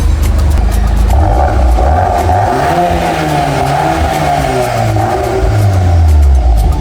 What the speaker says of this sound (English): it has a Krapovich exhaust